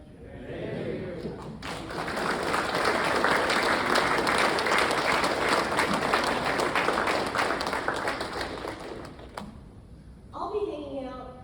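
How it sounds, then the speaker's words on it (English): An audience at a community recognition ceremony in Middlesex County gives families a sustained round of applause that swells, holds for several seconds and then fades, with a voice resuming at the end. "give them a big thank you and a round of applause"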